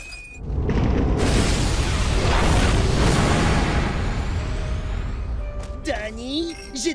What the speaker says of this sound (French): Préparez-vous à ce qu'on appelle une explosion.